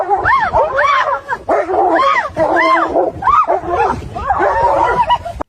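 A dog barks, yips and whimpers in a rapid, loud run of excited calls, heard close and filling nearly the whole stretch with only brief pauses.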